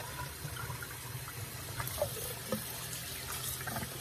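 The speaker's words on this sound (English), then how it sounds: "you want to rinse your bird. Rinse it out very, very well" Tap water running into a kitchen sink while a raw Thanksgiving turkey is rinsed, a quiet steady stream with faint splashes and a few small clinks against the basin.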